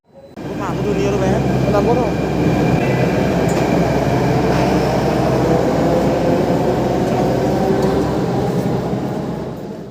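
A Delhi metro train rolls along with a loud, steady rumble and rail hum, with occasional clicks and brief tonal squeals, heard from inside a carriage, with some voices mixed into the noise.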